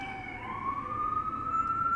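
A siren rises and holds a steady wail through two seconds, loud and close against low traffic-like rumble, with no voices over it.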